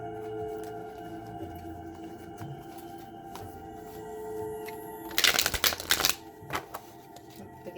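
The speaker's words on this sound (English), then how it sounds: "I'm going to shuffle a little." Tarot cards being shuffled by hand, a brief burst of rapid riffling and flicking about a second long, close and fairly loud against a quiet room hum, followed by a few soft card taps.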